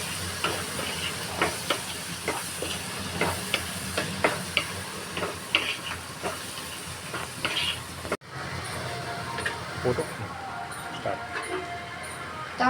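Mixed vegetables tossed with red chilli powder, turmeric, coriander powder and garam masala in a hot pan, giving a continuous sizzle with repeated scraping stirs, close up, and a brief break partway through.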